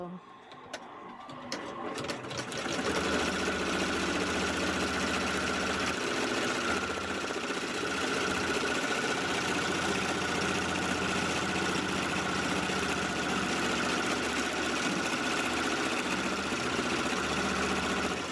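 An embroidery sewing machine stitching out a Yoda patch, its rapid mechanical chatter running steadily and fairly loud for most of the stretch after a quieter start, with a person talking over it.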